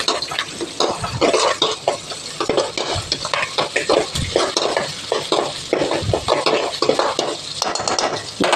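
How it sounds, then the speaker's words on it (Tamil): Small shallots sauté in a pan for a Tamil fenugreek kuzhambu, sizzling steadily under busy, rhythmic stirring. A metal spoon clatters and scrapes against the pan in close, repeated strokes throughout. "வெங்காயம் நல்லா வதங்கிடுச்சு"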